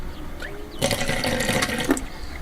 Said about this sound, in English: I've got running water here, as you can see